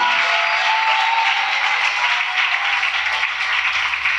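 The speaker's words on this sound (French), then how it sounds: "Give the Lord a big clap offering" A church congregation claps and cheers in a sustained, dense wash of applause that holds steady and loud throughout, with no pause or individual voices standing out.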